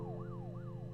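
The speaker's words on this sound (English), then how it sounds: "Why was there a siren?" An emergency siren from a video clip in the game Her Story, wailing up and down in a repeating sweep, steady and moderately loud over a low rumble, with no talking.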